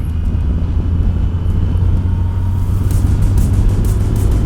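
A trike engine runs hard at high RPM in third gear while driving, a steady loud low drone with constant rumble throughout and some wind buffeting toward the end.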